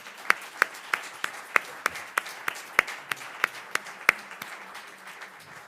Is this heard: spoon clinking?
no